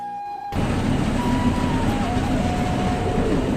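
A train rumbles along at speed after a quiet start, travelling from Mymensingh toward Dhaka through forest, a loud continuous roar with faint tonal whines over the rolling wheels.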